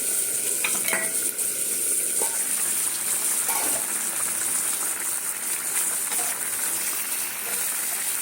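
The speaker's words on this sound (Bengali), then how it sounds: "এই দেখো এটা ফুটছে" Prawn and banana-flower curry boiling in a pan, a steady close bubbling and simmering hiss with a few light clinks of a utensil, no voices.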